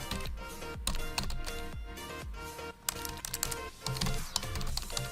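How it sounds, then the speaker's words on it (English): Computer keyboard typing as a domain name is entered, rapid clicky keystrokes in quick bursts with short pauses, close and clear over faint background music. "we're simply going to type in our domain."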